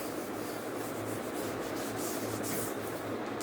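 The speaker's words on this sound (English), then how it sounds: "I am just rubbing" A board being rubbed clean of chalk or marker writing during a maths lesson, a steady, close, continuous rubbing scrape that fills the whole moment with no talking.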